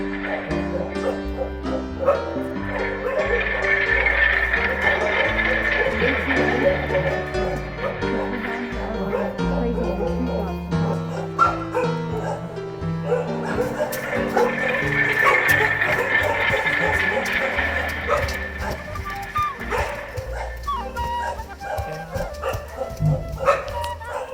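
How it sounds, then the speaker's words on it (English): Hounds bark incessantly in a film noir chase scene set in the gloom, repeated yelps and barks layered over a droning musical score, moderately loud throughout. "we could hear the sound of their bikes and the incessant barking of their hounds all around us in the gloom"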